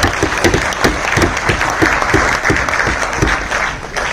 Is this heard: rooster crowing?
no